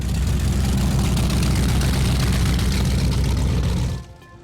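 A loud, deep powerboat engine rumble from a 42-foot boat throbs steadily for a few seconds, then drops away abruptly to a quiet hum.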